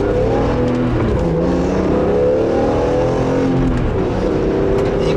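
A 2002 BMW M3 with a straight-six engine and SMG transmission drives along, a loud, steady engine drone heard from inside with slight shifts in pitch as it pulls.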